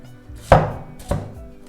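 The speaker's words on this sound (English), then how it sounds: "here we have the filling, just chopped, just finished to chop it" A kitchen knife chopping prune and garlic filling on a board, two sharp, close, loud chops about half a second apart with a light rustle between.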